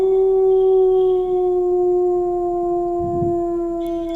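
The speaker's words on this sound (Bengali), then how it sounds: "নেকড়ের ডাককে ইংলিশে বলে হাউল।" A wolf howls in one long, steady sustained tone that holds for about four seconds and then cuts off abruptly, loud and close, with no other sounds.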